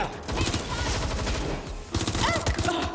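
Rapid gunfire from the Watch Dogs: Legion video game, a dense burst of repeated shots continuing throughout with a brief gap midway, loud and close, with faint game sounds mixed in.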